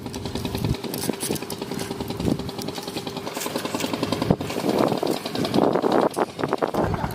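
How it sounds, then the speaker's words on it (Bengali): A fishing boat engine putters along a riverbank, a steady rough drone mixed with wind buffeting at the microphone and occasional nearby knocks, rising slightly toward the end. "দেখুন বন্ধুরা কত নৌকা যাচ্ছে, একটু আগে একটা গেল, আবার একটা নৌকা বেরোচ্ছে মাছ ধরতে।"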